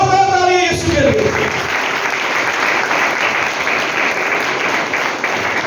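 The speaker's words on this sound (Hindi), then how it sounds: "जोरदार तालियां यीशु के लिए" Church congregation at a Sunday service bursts into loud, sustained applause as a sung or held tone fades at the start, the clapping continuing steadily to the end.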